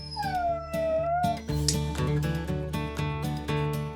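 Sled dogs in Montana howl together in long, wavering, overlapping cries, loud and close, with short yips mixed in over four seconds.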